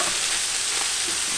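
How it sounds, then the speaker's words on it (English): Shrimp and spinach stir-frying in a hot wok with salt and sugar, a steady close sizzle and hiss running unbroken throughout with faint scraping of stirring. "continue stir frying for another 30 seconds to a minute until the spinach"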